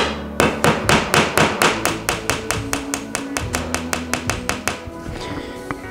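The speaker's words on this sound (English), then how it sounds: "we're gonna install a nail right at that 20 3/4 inch mark" A hammer driving a nail into a wall to hang a picture, about twenty sharp, evenly spaced blows in a fast steady rhythm, loud and close, ending with a brief pause.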